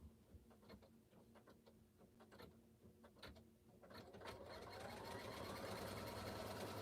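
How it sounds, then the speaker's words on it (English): An embroidery machine stitches the sides and bottom of a piece of fabric for a machine embroidered wallet, its needle clattering in a rapid mechanical rhythm that speeds into a steady whirring hum, close and quiet. "what it's going to do is stitch the sides and the bottom of that fabric"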